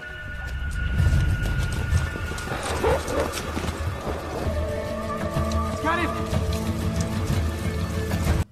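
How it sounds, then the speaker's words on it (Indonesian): Horses ridden in a hurry toward a Roman fort, clip-clop hoofbeats and a whinny under a film score, with someone narrating over the top throughout. "Mereka membawa kuda mereka, berusaha mencapai benteng secepat mungkin."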